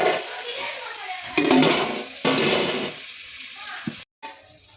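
Tomatoes frying in a pan give off a steady sizzle, with louder bursts as they are stirred, under a person talking throughout.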